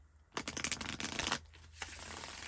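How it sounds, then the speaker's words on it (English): A deck of Night Goddess tarot cards is shuffled up close: a dense, crisp flutter of cards for about a second, then a softer brief riffle and a low rustle as the deck settles, with no talking. "Wow, that one shuffles so nicely."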